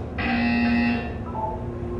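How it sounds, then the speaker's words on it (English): A steady electronic buzzer tone from the video game Portal 2 sounds for about a second, then a softer tone lingers briefly, with no voices. "You will hear a buzzer."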